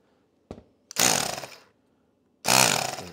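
A short burst, then two loud whirring runs of a Ryobi cordless drill converted into a bike tire air pump, revving up and winding down, separated by silence.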